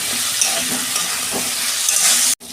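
Cabbage and other vegetables fry in oil with a little salt while being stirred in a pan for a vegetarian cabbage ghonto; a loud, steady sizzle runs throughout with faint scraping from the stirring, cutting off abruptly just before the end.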